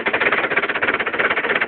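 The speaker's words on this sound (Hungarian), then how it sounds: "Ilyenkor most kicsit melegedni kell a motornak." A Trabant's small engine warms up just after starting, idling with a fast, steady, buzzing pulse that sounds close and fairly loud, with no voices.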